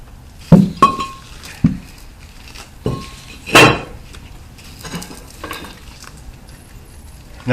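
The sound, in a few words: new brake rotor being fitted on a Pontiac Grand Prix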